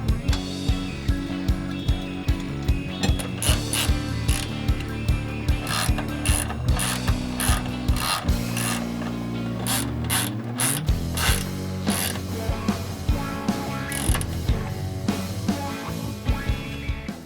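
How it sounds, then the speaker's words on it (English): A hand ratchet clicks rapidly in repeated bursts while tightening bolts on a homemade car transmission brace under the vehicle, the sharp metallic pawl ticks loud and close, with short pauses between strokes. "So let's get under the car and bolt this up."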